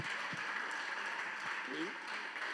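A church congregation applauding in praise during a French-language worship service, a steady wash of clapping with a few voices rising faintly underneath.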